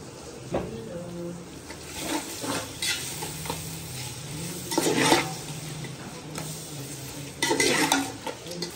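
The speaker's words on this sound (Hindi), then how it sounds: "सारे मसालों को हम ऐड कर देंगे और इनको अच्छे से मिक्स कर लेंगे" Spices with salt and red chilli powder stirred and fried in a pan for white chana pulao, with steady soft sizzling and repeated scraping strokes, louder bursts near the middle and end; a voice speaks lightly underneath.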